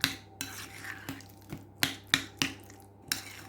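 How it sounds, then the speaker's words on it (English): Rustic guacamole being stirred in a bowl for nachos, a series of sharp utensil knocks and scrapes against the bowl, close and fairly loud, roughly eight hits at an uneven pace. "Give that a good mix."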